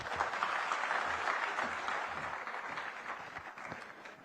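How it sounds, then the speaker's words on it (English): Applause from a conference audience in a hall, steady clapping from many hands that gradually fades in loudness over a few seconds. "Another round of applause"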